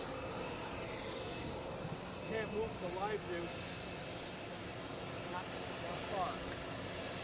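Air Force One's jet engines whine and rumble after landing at Palm Beach International Airport, a steady, moderately distant drone under intermittent talk.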